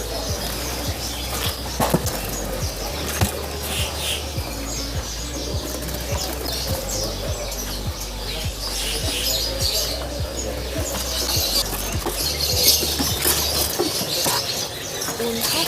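Songbirds and doves at the Pasar Depok bird market in Solo, Central Java, give scattered chirps, coos and wing flaps amid a busy ambience over a steady low hum.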